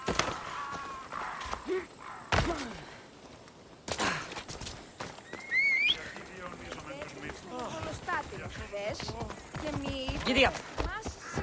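Horse galloping in Assassin's Creed Odyssey, steady rhythmic hoofbeats running through the whole stretch, mixed with game ambience, a whinny and brief character voices.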